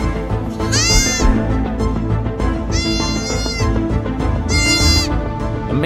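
Two newborn baby goats, stuck on a goat barn floor, give three loud, high, wavering bleats spaced a couple of seconds apart over a dense, constant background.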